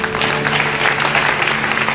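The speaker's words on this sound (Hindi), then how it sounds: "आइए पहले अपने लिए जोरदार ताली बजाएं।" A congregation claps loudly at a worship center's fifth anniversary service, a dense, continuous burst of many hands over a low steady hum.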